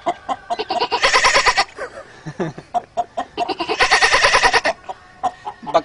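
A person mimics a goat bleating: quick, choppy bleats build into two long, wavering, nasal cries, loud and close.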